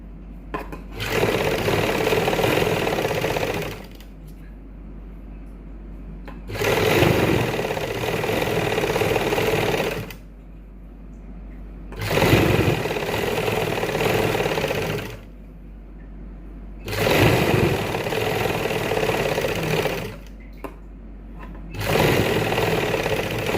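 A sewing machine stitches suit fabric while the suit length is extended, running in five loud, steady bursts of a few seconds each, with short pauses between them and no talking.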